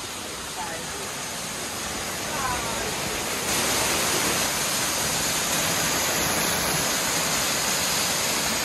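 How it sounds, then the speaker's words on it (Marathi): Fast-flowing water at the Ekvira waterfall, a constant dense roar that swells slightly louder partway through, close by and filling the scene, with faint voices in the background. "बराच सुसाट पाणी आहे ना"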